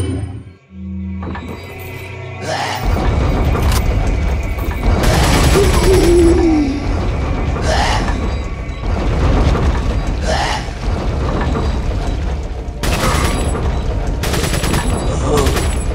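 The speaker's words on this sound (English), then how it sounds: "time for machine gun" Machine gun fire in the Resident Evil 4 video game: loud, dense bursts and booms rolling almost continuously, broken by short gaps, with a voice talking over the action.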